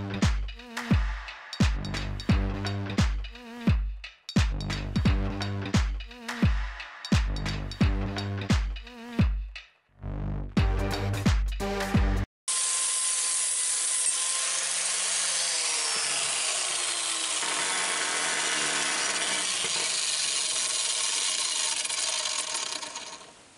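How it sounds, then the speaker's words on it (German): Angle grinder fitted with a flap disc sharpening a lawnmower blade, loud and steady, the continuous grinding rasp after a stretch of rhythmic music-like pulses at the start. "Für diese Arbeiten nehmen wir am besten eine Flex mit einer Fächerscheibe."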